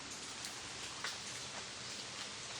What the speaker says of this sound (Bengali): আজকে প্রচুর পরিমাণে বৃষ্টি হচ্ছে